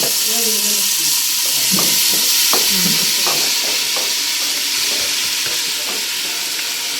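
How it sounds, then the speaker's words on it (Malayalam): Sliced onions frying in oil inside a pressure cooker for biryani, a loud, close, continuous sizzling hiss with rhythmic scraping clicks of stirring, while a voice talks faintly underneath. "അതിൽ ഓയിൽ പാർന്നു ലേസം ഈ ഉള്ളി ഇതിക്ക് ഇടുകയാണ്"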